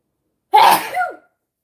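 A single close, sharp sneeze bursts out suddenly after a moment of silence, then trails off quickly.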